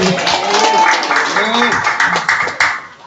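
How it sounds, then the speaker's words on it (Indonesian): An audience at a village gathering claps in scattered, uneven bursts, with voices talking loudly over and around the applause throughout. "Tepuk tangan, Bro"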